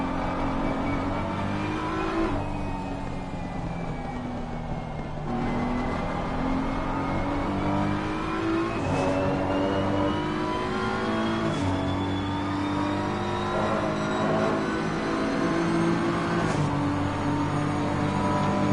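A race car engine in a PS5 racing game on a flying lap at Silverstone, droning loud and continuous as it climbs through each gear, with brief drops at the upshifts and downshifts into corners.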